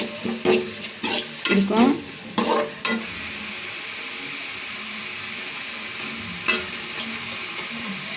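Ginger garlic paste sautés in a pan as a steady sizzle, with several loud scraping stirs in the first few seconds and one more later, and a voice briefly speaking at the start.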